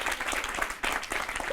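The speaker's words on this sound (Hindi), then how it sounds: "हाँ ताली हो जाए एक बार।" A studio audience bursts into steady, loud applause on a Hindi television set during a mentalist's segment, dense clapping continuing throughout with a brief dip midway.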